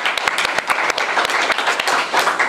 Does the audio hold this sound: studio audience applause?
yes